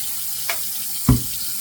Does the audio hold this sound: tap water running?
yes